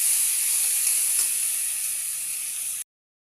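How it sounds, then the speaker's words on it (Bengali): Chopped onion frying in a pan, a steady bright hiss of sizzling oil that runs evenly and close before cutting off abruptly. "পেঁয়াজটা লেড়ে লাল করে নিব।"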